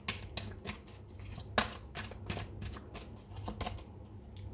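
Tarot cards are shuffled in a series of crisp riffling bursts and soft slaps, close and fairly quiet, with no voice over them.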